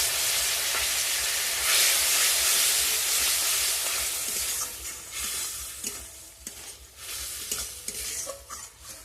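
A spice masala of ground cumin and coriander with turmeric and a splash of water fries in oil for a prawn and cauliflower curry. A loud, steady sizzle comes first, then spoon strokes scrape repeatedly against the pan as the hiss eases.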